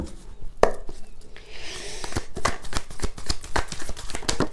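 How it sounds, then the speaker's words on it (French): Oracle cards being shuffled by hand at a tarot-style reading table, a steady run of crisp riffling snaps and soft card slaps close to the microphone with no talking. "on va voir avec l'oracle de lumière d'Inanna"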